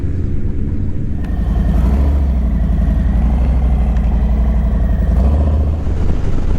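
A motorcycle's engine rumbles steadily and loudly at low pitch throughout a back-road ride in Murcia, with continuous wind and road noise and no voices.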